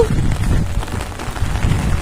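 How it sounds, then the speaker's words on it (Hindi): Heavy rain pouring down, a loud, dense, steady hiss and patter that fills the whole stretch without pause or talk. "बारिश बहुत तेज आ गई है"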